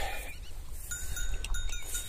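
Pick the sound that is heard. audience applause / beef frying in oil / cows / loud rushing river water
cows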